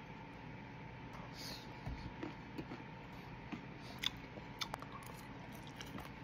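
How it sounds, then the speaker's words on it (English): Crunchy Korean fried anchovy side dish with peanuts is chewed close up, quiet irregular crisp bites and crunches in a soft, otherwise still room. "And the peanuts add such a nice crunch."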